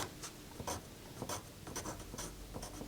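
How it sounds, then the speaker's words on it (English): A pencil writing a measurement onto a wooden board in a workshop, a steady scratchy scrawl of short strokes lasting a few seconds, close and fairly quiet, with no talking. "I'm going to write on here 9 1/4"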